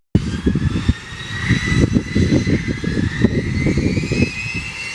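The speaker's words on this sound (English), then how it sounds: "We are positioning aircraft to be in the air for the airborne start." An A-10 jet thunders nearby at the Oshkosh EAA AirVenture airshow, a loud, sustained engine roar with a rising whine and rumbling pulses, heard alone without talk.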